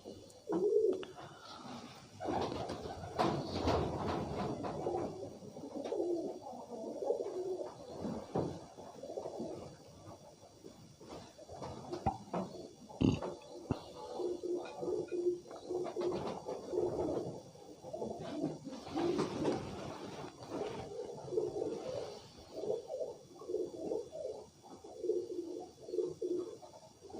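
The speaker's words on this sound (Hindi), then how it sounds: "इनके पास यही कबूतर हैं और इन्हीं के बच्चे उड़ते हैं।" Pigeons coo repeatedly in soft, low, throaty phrases, several birds close by, with occasional wing flutters and light rustling in between.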